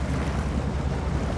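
A Mahindra Thar 4x4 pulling a trailer pushes through deep water off-road, giving a steady, heavy rushing and churning roar with low engine rumble, loud and close, with no voices.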